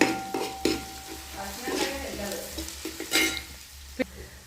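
Spices stirred into chicken curry in a pan, with a soft sizzle beneath intermittent scraping and clinks of a spoon against the pan, close and moderately loud.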